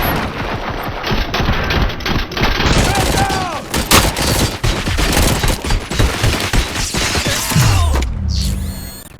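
Dense, loud bursts of gunfire in RoboCop: Rogue City, rapid shots and machine-gun rattles overlapping with mechanical clanks and a few booms, under brief voices, ending in a sharp whoosh.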